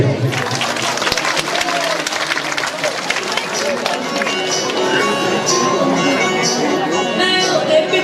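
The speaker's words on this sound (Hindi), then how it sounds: "जोरदार ताली" A crowd at a Ramayana stage performance claps loudly and steadily throughout, dense applause mixed with voices and music-like tones in the background.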